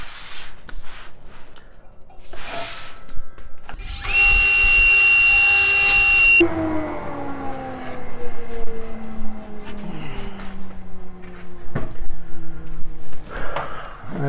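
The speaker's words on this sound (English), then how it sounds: "Lock it off and make the first cut." A table saw cuts a pen blank on a cutting jig: a loud, steady whine for about two seconds, then the tone sinks as the blade spins down, among handling clatter.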